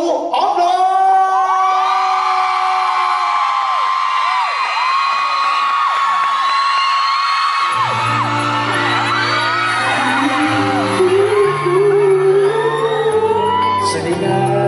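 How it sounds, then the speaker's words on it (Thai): A crowd at a fan event screams and cheers loudly with whoops and yells, a dense sustained roar while voices shout over it. "ส่งเสียงกรี๊ดดังๆกับต้าหูออฟโร"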